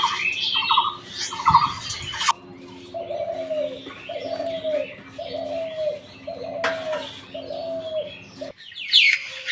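A spotted dove calls with a steady series of about six soft, evenly spaced coos, after some brief higher chirps from other birds at the start.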